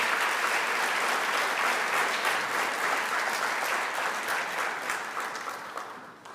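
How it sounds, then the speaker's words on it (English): A large audience at a high school sports award banquet gives a sustained round of applause, dense and even, that gradually tapers off toward the end. "please give him a humongous round of applause"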